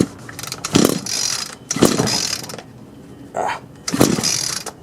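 An old Echo string trimmer engine is pull-started, with four sharp rope-pull bursts, each a rattling, whirring crank that dies away, spaced about a second apart, plus a short grunt between pulls and no engine catching.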